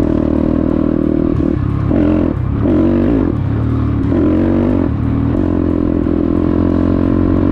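A Daytona 212 cc engine warming up after its first start, running loud and close with a rough, throbbing idle that rises and falls in repeated revs, some mechanical clatter and no speech.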